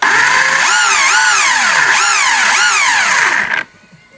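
Traxxas Hoss RC truck's electric motor and drivetrain buzzing loudly up close, pitch surging and dipping in repeated waves of throttle before cutting off abruptly near the end.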